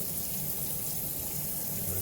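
Hot tap water running into a sink while tie-dyed fabric is rinsed, a steady, close splashing gush that continues unbroken throughout with no talk.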